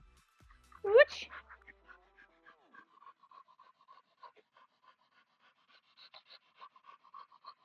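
A tired dog panting after ten minutes of flirt pole play, a quick run of close breathy pants after a short louder burst, continuing softly and steadily.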